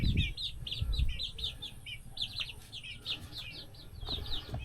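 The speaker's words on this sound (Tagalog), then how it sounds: "manok." Chickens on a rural farm, with rapid high chirping calls repeating in quick bursts close by over low rustling and thumping background noise.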